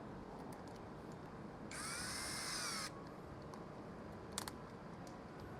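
An SCD 110 cordless drill whirs in reverse in one short burst of about a second to loosen its chuck, then stops, leaving quiet background and a small click.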